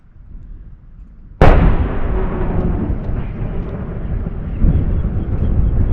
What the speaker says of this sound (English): Listen for the next explosion.